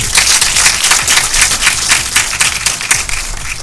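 Audience applause at a live quiz programme held in honour of a First Lady, steady dense clapping from a crowd that fills the whole stretch at an even loudness with no voice over it.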